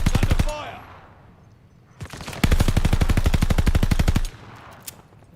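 Gunfire from a DP27 light machine gun in a Call of Duty Vanguard Hardpoint match: one short burst, a pause, then a long, loud, evenly paced stream of rapid shots that stops abruptly.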